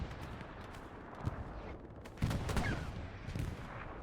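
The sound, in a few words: aircraft strafing gunfire in Hell Let Loose video game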